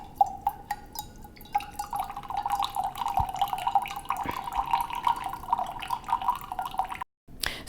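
Steamed milk pouring into a stainless steel pitcher, a thin trickling stream with small splashes and drips, fairly quiet and close, ending abruptly.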